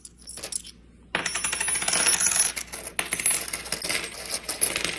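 Silver dimes jingle and clink together in a handful, a light, bright metallic rattle of many small coins that continues for several seconds after a brief quiet start.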